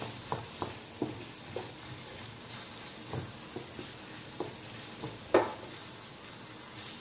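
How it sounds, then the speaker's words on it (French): Taco filling with spices cooks in a pan under a low, steady sizzle, while a utensil scrapes and taps the pan in irregular strokes as it is stirred. "On mélange, on laisse encore un petit peu."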